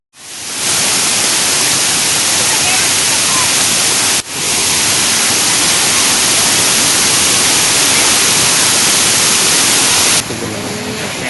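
Temam waterfall, a tourist spot with a river below, roars as a loud, dense, continuous rush of falling water, steady throughout with one brief dip.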